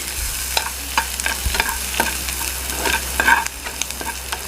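Finely chopped garlic sizzles in hot oil in a pan while a utensil stirs it, giving a continuous fry with frequent scraping taps and clinks.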